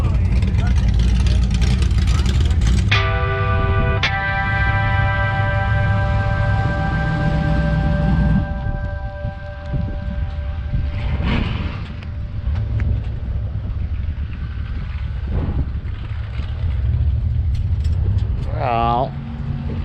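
A twin-turbo 5.3 LS Chevrolet Nova drag car's engine roars loudly at launch, then its pitch and level drop away, followed by quieter idling, mechanical clicks and people talking nearby.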